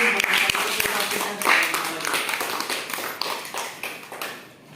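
Applause at an Indonesian presentation, a short burst of clapping from a small group that starts strong and gradually thins out and fades.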